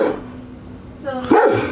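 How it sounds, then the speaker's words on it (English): A dog indoors barking while looking out a window, with a low growl first and then a sharp bark close by near the end. "Dog, would you stop, please?"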